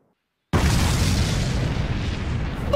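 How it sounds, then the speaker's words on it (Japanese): A sudden loud explosion bursts in after half a second of silence, then a sustained, rumbling roar with crackling debris that continues to the end. "爆発"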